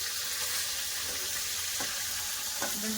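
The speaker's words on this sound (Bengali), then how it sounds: "মাছ খুব ভালো করে ভেজে নিয়েছি এবার তুলে নেব মাছগুলো" Steady hissing sizzle of rupchanda (pomfret) fish frying in oil, with a few faint clinks of utensils near the end.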